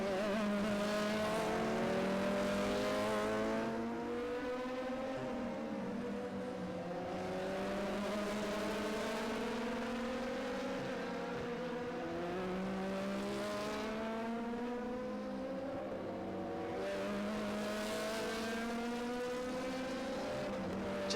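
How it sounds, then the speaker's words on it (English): Race cars lapping a circuit during a JK Tyre race, engines roaring loudly and continuously with rising and falling pitch as several cars sweep past in succession, no talk over the engine noise. "just saw Chitesh Mandodi go by in car number 7"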